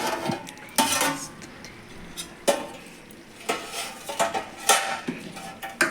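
Masala gravy curry being stirred in a pan, with a spoon scraping and clinking against the metal in irregular strokes and a faint sizzle underneath, close and clear.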